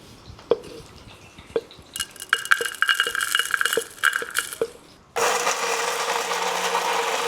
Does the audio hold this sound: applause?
no